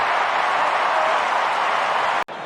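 Steady roar of a large AFL stadium crowd at a Richmond versus Hawthorn match, a broad even cheering wash that holds loud and unbroken before a brief cut near the end.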